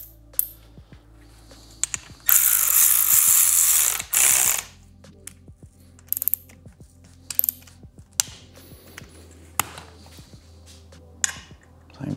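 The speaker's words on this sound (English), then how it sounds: "we're gonna tighten them all the way down" A ratchet tightens the 6mm handlebar bolts on a 2018-2023 Indian Roadmaster or Chieftain motorcycle: close, crisp runs of clicks broken by a couple of louder, longer mechanical bursts, with no talking.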